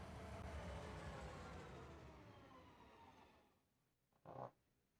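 A train on a Saskatchewan farming map in a video game, by a grain drop-off point: a steady low rolling rumble that slowly fades out, then a brief louder burst near the end, faint overall.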